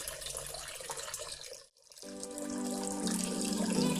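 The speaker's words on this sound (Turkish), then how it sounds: "dip çekimi yapıyoruz" Water running and splashing as it is siphoned out of a home aquarium during gravel vacuuming, a steady wash that drops out briefly midway, then returns with a fuller, louder gurgling flow.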